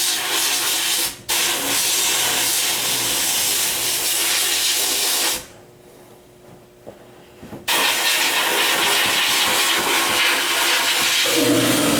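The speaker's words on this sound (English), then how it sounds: "We'll hear the compressor in a second." A loud, steady hiss and rumble of an air compressor running, cutting out abruptly for a couple of seconds before roaring back on.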